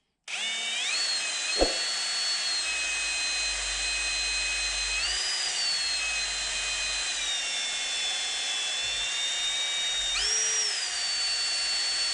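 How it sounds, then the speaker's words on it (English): Drilling out a steel taper pin in the apron of a 1960 South Bend lathe, a steady high-pitched whine from a power drill running continuously at close range, its pitch shifting slightly as it bites, with one sharp knock early on. "I'm just going to take a center punch here and we're going to drill this thing out"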